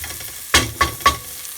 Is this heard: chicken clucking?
no